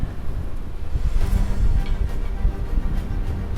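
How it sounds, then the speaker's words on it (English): Strong 35-knot wind roars across the microphone on a sailboat under reduced sail on a sunny day, a steady loud low rumble with gusty swells and a faint splash of water throughout. "So the winds have really picked up. We got 35 knots again."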